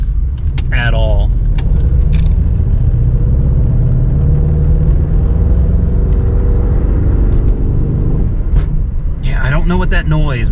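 A car driving along with a vibration coming from its rear end: a loud, steady engine and road rumble with a low droning buzz that holds throughout, and someone speaking briefly at the start and end.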